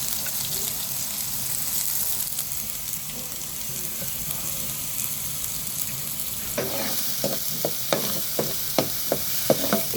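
Grated coconut frying in coconut oil in a pan for a jackfruit and cowpea curry gives a steady, close sizzle throughout. In the final seconds a series of sharp, rhythmic clicks of stirring cuts through it.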